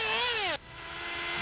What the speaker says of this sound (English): When your engine sounds like this, you've found the best high-speed needle setting.